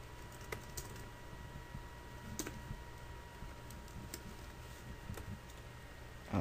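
Keys on a computer keyboard being typed while writing Game Maker array code, a quiet scatter of light clicks at an uneven pace over steady room hiss, with a louder click cluster near the end.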